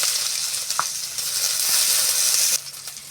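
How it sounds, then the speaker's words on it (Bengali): Onion and chopped green chili hit hot oil with panch phoron and fry in a steady, close sizzling hiss that holds evenly, then eases slightly near the end. "তেল গরম হয়ে গেছে, পাঁচ ফোড়ন দিয়ে দেবো। পেঁয়াজ কাঁচা লঙ্কা কুচি একসঙ্গে দিয়ে দিচ্ছি।"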